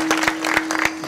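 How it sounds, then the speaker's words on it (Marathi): Listeners at a Marathi kirtan clap for the pakhawaj drummer, a few sharp irregular handclaps over a steady electrical hum, with no talk. "पक्वाच्याबद्दल टाळी वाजवा हो."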